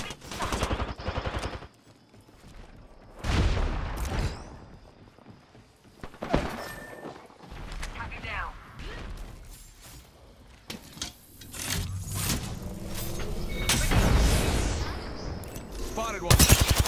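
Gunfire in the Apex Legends video game, bursts of rapid shots that come and go in clusters, some loud and close, alongside game effects and a voice talking at times.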